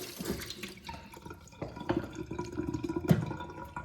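Water runs and splashes as a horsehair boot-cleaning brush is wetted under a tap. The close, uneven gushing has a few sharper splashes and drips.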